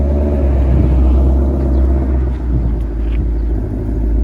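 A 2020 Ford Shelby GT500 engine rumbles low and steady up close as the car rolls along, with a continuous deep drone and no voices.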